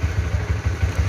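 A Honda Tiger Revolution motorcycle from 2013 idles close by, a loud low engine chug with an even pulsing rhythm and a slight mechanical clatter, heard alone.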